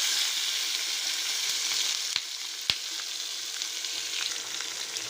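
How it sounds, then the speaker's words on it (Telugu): Chopped capsicum pieces frying in a hot tempering for capsicum curry, a steady close sizzle throughout with a couple of sharp clinks from a utensil; no voices. "తరిగి పెట్టుకున్నాం కదా కూర ముక్కలు,"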